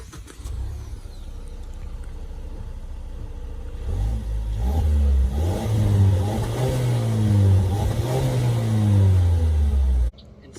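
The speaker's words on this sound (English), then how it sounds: "take a listen at a cold start and exhaust" A 2021 Mazda CX-5 Signature engine starts from cold, then revs up and down several times with a deep, loud exhaust note close by before cutting off abruptly.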